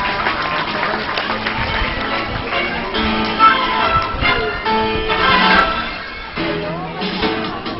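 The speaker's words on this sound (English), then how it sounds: "About a nice round of applause for dolphins." A crowd at a dolphin show claps and cheers for the dolphins, with loud, sustained applause mixed with music and a presenter's voice over a busy stadium-like setting.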